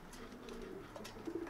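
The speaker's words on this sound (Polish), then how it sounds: "To jest gołąbek z 16 roku." Racing pigeon in a loft gives soft, low cooing notes, faint and close, with a short run of coos near the end against a quiet background.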